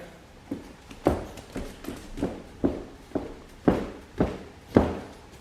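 Stamping on a solid floor area indoors, about nine heavy thuds in an uneven rhythm, close and fairly loud, each a dull impact with a short decay and no talking.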